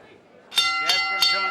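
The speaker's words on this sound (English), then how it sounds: "there's a bell" A boxing round bell at a women's pro bout clangs three times in quick succession, loud and close, ringing out over background voices.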